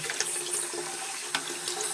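Tap water runs steadily into a sink during washing up at a basin, a continuous close hiss with small splashy bursts and no talking.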